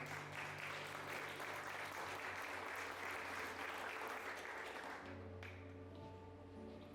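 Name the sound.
applause in church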